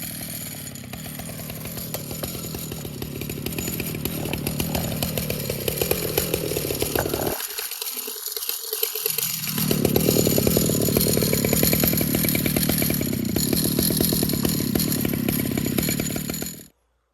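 A Stihl chainsaw milling a log into 12-foot posts roars loud and continuous under load, briefly dropping out before cutting back in at full power.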